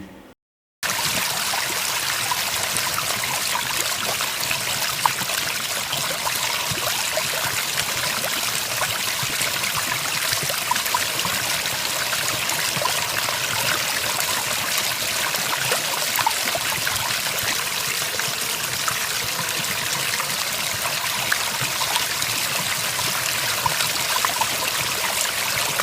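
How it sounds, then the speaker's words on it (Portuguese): A small indoor water fountain trickles continuously, water splashing and babbling in an even, steady stream close by for the whole stretch after a brief silent start. "aquelas fontezinhas que tem um ruídozinho muito agradável, quer dizer, não é um ruído, tem um som agradável, aquele ruídozinho de água batendo"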